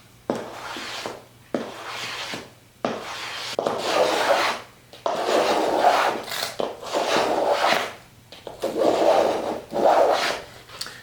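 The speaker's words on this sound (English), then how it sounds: "with my hand planes, I'm just going to start profiling these edges" Rhythmic rasping strokes of a hand plane shaving the edges of wooden braces, about eight back-and-forth passes with short pauses between, close and fairly loud.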